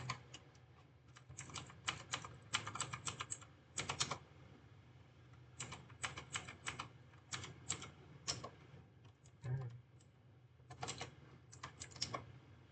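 Someone types on a computer keyboard in quick bursts of keystrokes, separated by short pauses and close to the mic, with no speech over it.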